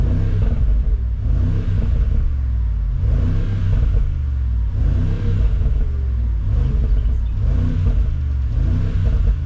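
A 2025 Mercedes G63 AMG facelift V8 revs repeatedly, loud and close, its deep rumble swelling and falling in about four rhythmic bursts with no talking.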